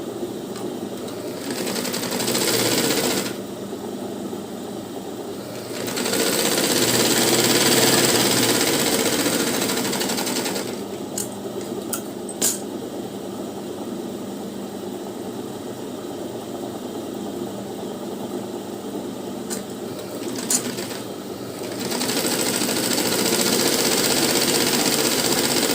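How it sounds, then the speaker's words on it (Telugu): A sewing machine stitches the lining of a blouse in long whirring runs, pausing briefly between bursts with faint clicks as the fabric is repositioned, close and steady with no talking. "ఇది సీదా పెట్టుకొని కుట్టుకోవాలి."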